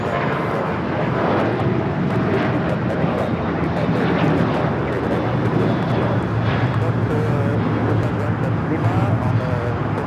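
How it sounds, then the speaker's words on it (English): Lufthansa Airbus A380 landing at Los Angeles airport, a steady loud broadband jet roar lasting throughout with a constant low rumble, and voices talking over it. "up next is the Lufthansa A380 Super coming in from Munich"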